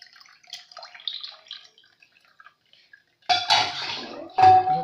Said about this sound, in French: Vous voyez, je suis en train de tamiser l'eau.